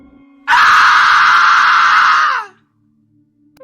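A monster's final shriek, a dense chorus of many voices screaming together in one loud sustained wail for about two seconds before cutting off abruptly into quiet.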